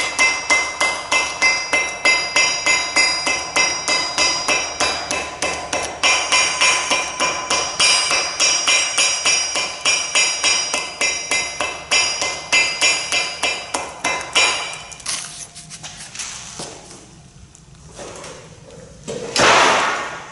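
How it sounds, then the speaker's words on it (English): A hammer taps repeatedly around the edge of a cardboard template laid on a tyre, producing a steady, rapid run of sharp close knocks that continue for most of the stretch, then slow to scattered hits near the end. "I'm going to take my hammer and I'm going to tap around the edge."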